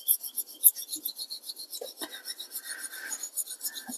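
Repeated rhythmic scraping strokes of a knife blade being sharpened on a green Gold Fish natural whetstone for a fine finishing edge, quiet and close, with no voices.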